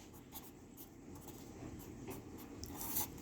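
Pen or marker scratching across a surface while equations are worked out by hand, a steady soft rubbing and scraping that runs continuously with a low background rumble and grows slightly louder near the end.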